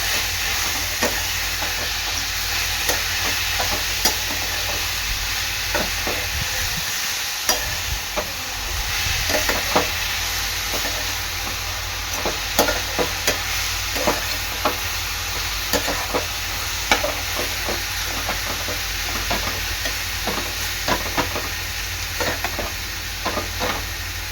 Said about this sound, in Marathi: चांगल्या तुपामध्ये परतून घ्यायचं आहे